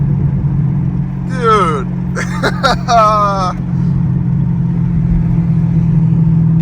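Chevy Camaro LT1 V8 with the AFM system deleted, a steady low exhaust drone under a voice, with crackling pops and bursts in between.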